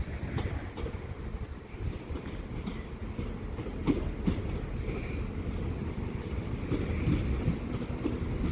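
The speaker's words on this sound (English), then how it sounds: "is going to be a West Midlands Railway Class 196" West Midlands Railway Class 196 two-car diesel multiple unit at Leamington Spa station, a steady low rumble and engine drone running throughout with light wind, no talking.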